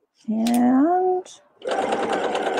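A sewing machine running in a short whirring burst, pausing, then whirring again as it back stitches a mitten, close and loud, with a voice talking over the start.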